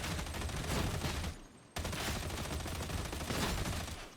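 Rapid continuous automatic gunfire from the Columbus weapon in Warhammer 40k: Darktide, a dense loud stream of shots mowing down charging enemies, broken by one short gap before the firing resumes.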